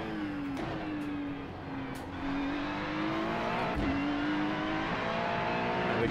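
Acura GT3 race car in iRacing, its engine droning at a steady pitch with slight rises and dips, close and continuous, with one brief shift blip midway.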